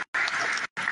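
Applause from the audience at a youth foundation's 22nd anniversary gathering: two broadband bursts of clapping with a short silence between them, fairly close and fairly loud, with no talk over them.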